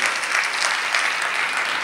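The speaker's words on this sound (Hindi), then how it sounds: "अच्छा दिखाया तो तालियां बजने दो जब तक मैं मना नहीं करूं।" Audience at a Jain Panch Kalyanak festival program clapping for the performers after a play, a steady dense burst of applause, close and continuous, with no talk.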